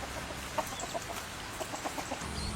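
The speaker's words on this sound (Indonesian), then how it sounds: "Iya tadi hayam aya nu ngudak-ngudak." Chickens cluck in short, scattered bursts against a steady outdoor background hiss, with a few louder clucks standing out near the middle of the stretch.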